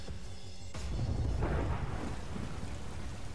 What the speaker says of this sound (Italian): Piove gente, ragazzi.